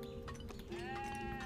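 A sheep bleats in the real-time strategy game 0 A.D., one drawn-out, wavering cry that rises partway through and holds steadily to the end.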